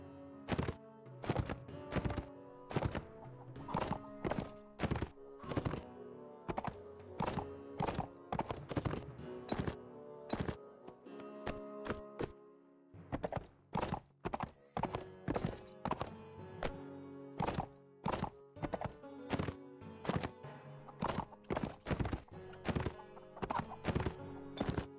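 Horse hooves clip-clop in the video game Mount and Blade Warband, a fast, rhythmic string of sharp, close hoofbeats with brief pauses and occasional whinnies.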